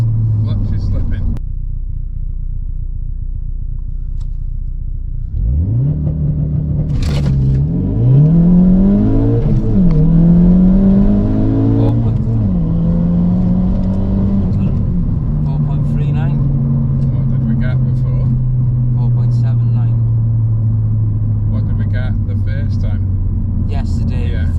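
A Ford Focus RS MK3 launches hard from a standstill, its engine climbing through several gears in loud rising sweeps while the clutch slips, then settling into a steady high cruise drone, heard from inside the car.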